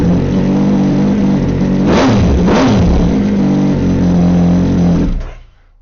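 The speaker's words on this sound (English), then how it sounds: "It sounds amazing when you start it up." A 2020 Triumph Speed Triple 1050s idles loudly through a short aftermarket exhaust, then gives two sharp, quick revs before settling and shutting off at the end.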